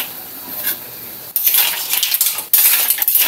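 Shrimp drop into a metal cooking pan with tahong, starting a loud, bright sizzle and clatter that swells in two abrupt surges, close up with no talking.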